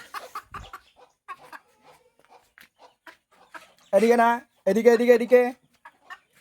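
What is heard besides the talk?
chickens clucking while being herded into coop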